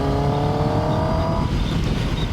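A Kawasaki Ninja ZX10R sport motorcycle engine revs with a raspy, rising tone that gives way to a rougher, broadband roar, loud and close throughout, with no talking.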